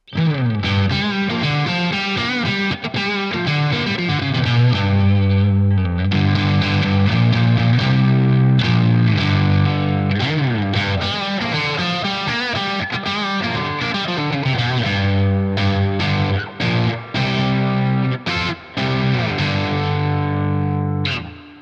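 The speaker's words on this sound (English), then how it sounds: "Let's try the rather affordable Phenom Distortion" A loud electric guitar, a Stratocaster, played through a Phenom Distortion pedal, fuzzy chords and riffs ringing out continuously with sharp pauses between phrases.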